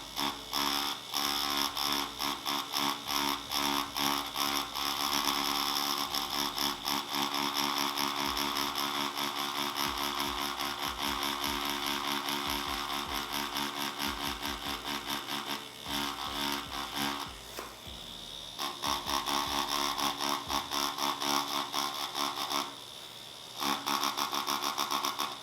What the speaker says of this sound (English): I am using a pen style tattoo machine